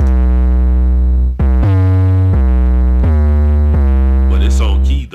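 A loud, booming 808 bass drum sample sounds at its original pitch before tuning, hitting four times in a row with long sustained low tails that pitch-glide down at each new hit.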